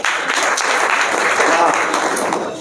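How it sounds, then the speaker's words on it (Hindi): Studio audience at a televised objective quiz show breaks into applause for a correct answer, dense continuous clapping that stays loud and even before easing slightly at the end. "उन्होंने पहले से ही ताली बजाना आरंभ कर दिया था"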